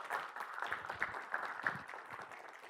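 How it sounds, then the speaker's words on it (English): Audience applause at a university AI lecture on the future of AI, honoring speaker Dave Copps; steady mid-level clapping from a modest crowd, fairly distant, continuing throughout. "let's give Dave another round of applause"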